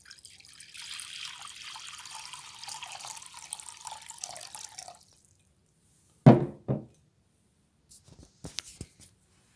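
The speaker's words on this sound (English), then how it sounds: "So we move to the basin and we move to this act of hand washing." Running water and splashing as hands are washed in a basin during a Maundy Thursday church service, a steady soft trickle that stops, followed by a few sharp knocks and clatters of the bowl.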